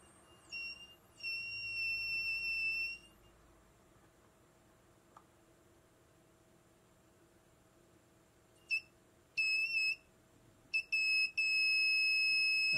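An inductive short-circuit locator probed across a circuit board gives high electronic beeps, a sustained tone at first, then a long quiet gap before short repeated beeps and a steady tone return.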